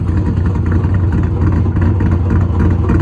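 A car's engine idles roughly with a low, steady rumble and a faint rattle, as if the whole car is shaking, loud and close with no talk.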